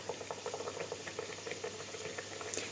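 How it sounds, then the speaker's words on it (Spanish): Pestiños, a Spanish pastry, fry in hot oil in a pan, giving a steady close bubbling sizzle with soft popping bursts throughout. "Yo creo que el aceite está perfecto, así que vamos a ir introduciendo y friendo nuestros pestiños"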